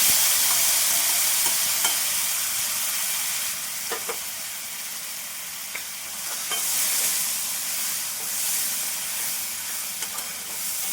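Ground masala paste frying in oil in a pan, a steady loud sizzle and hiss with occasional scraping taps of a spoon stirring it, close up and without talk.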